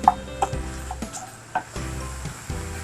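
Chicken and mince fry in a pan for samosa filling, with a steady sizzle broken by repeated scraping stirs at regular intervals. Close and fairly loud, with no talking.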